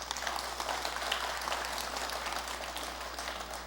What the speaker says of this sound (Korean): 가겠다고 하는 사람 박수를 한번 쳐봐요.